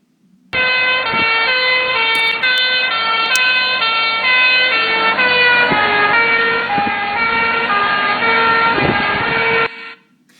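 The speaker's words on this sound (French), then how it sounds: "il y a un camion-pompier qui arrive devant la caméra, puis qui repart." A fire truck passes close by with its siren wailing loudly and steadily; the tone drops in pitch as the truck goes past, then cuts off abruptly.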